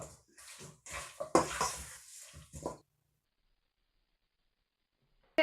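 Air fryer chicken wings with garlic lemon pepper seasoning being tossed: a few seconds of close, scraping, rustling clatter in uneven bursts, then sudden silence.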